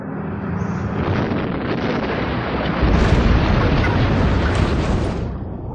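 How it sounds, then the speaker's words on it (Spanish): Explosion welding of metal deep in a mine, more than a kilometre underground, gives off a heavy, sustained rumbling roar that surges louder midway and keeps going for several seconds. "Se le llama soldadura de explosión."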